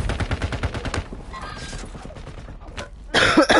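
Bursts of rapid gunfire in a multiplayer shooter video game, loud and rhythmic at first, then quieter, with a sharp burst of shots at the end.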